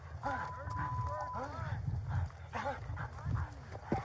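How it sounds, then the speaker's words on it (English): A sheriff's police dog barks in repeated sharp bursts during an arrest, heard close and loud under urgent shouting from officers, with scuffling noise throughout. "Gabriel, Sheriff's Canine, get on the ground, you're gonna get bit by the dog."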